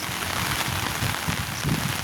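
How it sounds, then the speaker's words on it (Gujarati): Steady rain falls outdoors beside a village yard, a dense, even hiss of drops that holds at constant loudness throughout with no voices. "જો વરસાદ ચાલુ છે"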